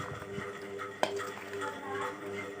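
Fruit chaat of melon and apple being stirred in a bowl, soft scraping and clinking of a spoon against the dish with one sharper knock partway through, close and moderately quiet.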